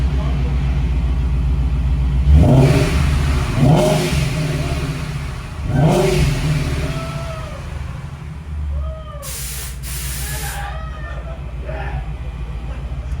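A 2014 Ford Mustang 5.0 with a freshly installed nitrous kit revs close by. Three sharp throttle blips rise over a rumbling idle, followed by a steadier engine drone with a short high whine near the end.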